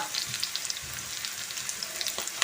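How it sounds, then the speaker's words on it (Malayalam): Shallots and curry leaves frying in hot coconut oil, a steady close crackling sizzle with small pops, heard alone. "ഈ വെളിച്ചെണ്ണ ചൂടായി വരുമ്പോൾ അരിഞ്ഞ് വെച്ചിട്ടുള്ള ചെറുള്ളിയും വേപ്പിലയും ഇട്ട് കൊടുക്കാം"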